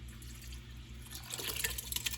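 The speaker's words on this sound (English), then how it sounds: "And you can pour the soup in." Home-canned soup poured from a glass jar into a pot, a soft liquid splashing and trickling that builds during the second half, close and fairly quiet, with no talking over it.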